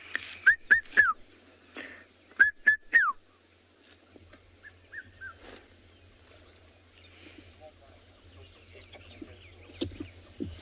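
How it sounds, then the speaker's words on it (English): A red-chested cuckoo calls at sunrise on a safari in Tswalu, giving two quick clear bursts of repeated whistled notes, distinct against a quiet outdoor backdrop with faint later sounds. "And you can hear the red-chested cuckoo."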